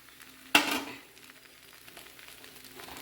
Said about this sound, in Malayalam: ഈ തേങ്ങയും സേമിയയും എല്ലാം കൂടെ നന്നായിട്ട് മിക്സ് ചെയ്യുക